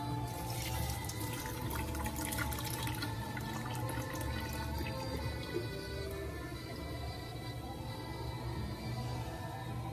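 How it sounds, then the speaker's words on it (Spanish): Water runs steadily from a kitchen tap into a sink as cold water is poured off boiled potatoes, a continuous close splashing flow with some dripping, no voices. "Luego retiramos el agua."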